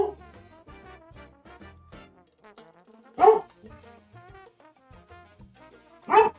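A dog barks twice, single sharp loud barks about three seconds apart, standing out over steady ongoing game music or background sound.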